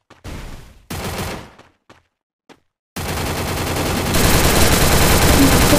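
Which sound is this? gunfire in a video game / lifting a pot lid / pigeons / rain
gunfire in a video game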